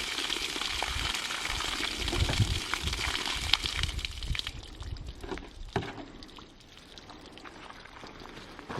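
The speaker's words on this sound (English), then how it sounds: "Let's pour this one out and see what it looks like." Water poured out of a container used as a bullet-penetration test medium for a .36 Colt, a broad splashing gush that is steady for the first few seconds, then thins into quieter trickling and dripping.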